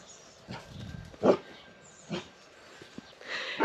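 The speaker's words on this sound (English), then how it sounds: "That was definitely the dog." A dog in the garden of a farmhouse gives several short barks at spaced intervals, fairly distant and moderately loud against a quiet outdoor background.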